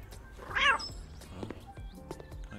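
A cat meows once in the Cafe Owner Simulator video game, a short, clear, rising-and-falling call set against soft background game noise.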